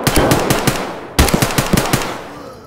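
Rapid automatic gunfire from players fighting across a factory map in Escape From Tarkov, two quick bursts of sharp cracks, moderately close and loud, with a decaying tail at the end.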